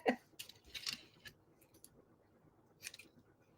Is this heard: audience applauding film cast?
no